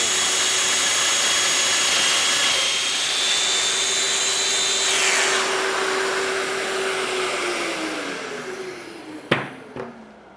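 A Festool Domino DF 500 joiner motor whirs at a steady high-pitched whine, then its tone drops as the cutter plunges into the wood, ending with a couple of sharp clicks as it shuts off.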